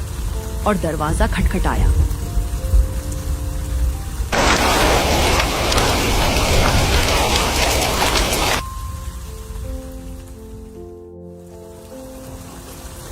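A loud burst of heavy, hissing night rain pours down for several seconds between stretches of Hindi cartoon narration and soft background music.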